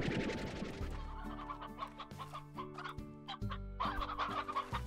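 A rooster in the Slime Rancher video game clucks repeatedly in short, close, fairly loud bursts over steady tonal game music.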